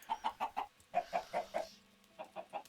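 A Minecraft chicken clucks in quick groups of short, bright, evenly spaced notes, fairly soft and alone, with a brief pause between bursts.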